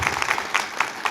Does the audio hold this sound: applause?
yes